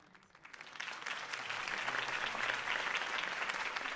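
Crowd applause in Batman: The Telltale Series after Harvey Dent's campaign speech, swelling from quiet to a full, sustained roar of many clapping hands that holds steady to the end.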